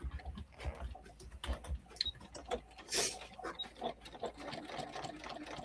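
A sewing machine stitching a quilted Cuddle fabric backpack, running in short bursts of rapid mechanical whirring with pauses between runs, close and fairly quiet with small clicks.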